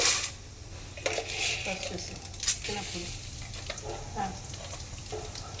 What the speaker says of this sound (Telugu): కొంచెం జీలకర్ర, కొంచెం ధనియాలు ఫ్రై చేసుకోవాలి.